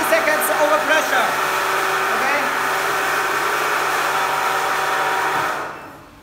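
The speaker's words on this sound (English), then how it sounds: "Switch off the vacuum pump." Vacuum pump of a jewelry vacuum pressure casting machine running, a steady whirring mechanical hum with a faint tonal whine that holds level for over five seconds, then winds down and fades as the pump is switched off.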